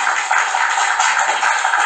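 Applause sound effect from TikTok Live, a dense, even wash of many hands clapping at a steady level for the whole stretch, with no voices over it.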